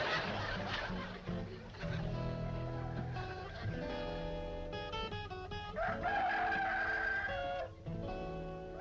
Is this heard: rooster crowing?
yes